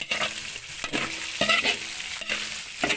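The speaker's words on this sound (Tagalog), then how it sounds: "yan po haluin na natin" Pancit bihon rice noodles are tossed in a sizzling pan, with repeated scraping strokes of the utensil at a steady rhythm over a constant hiss of frying.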